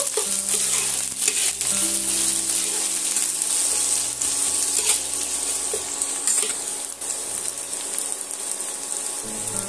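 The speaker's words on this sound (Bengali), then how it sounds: "সেই পেঁয়াজ কুচিটা আমি এর মধ্যে তেলের মধ্যে অ্যাড করে দেব।" Chopped onion pieces frying in oil for an egg posto dish, a steady, close sizzle that holds throughout with no talking.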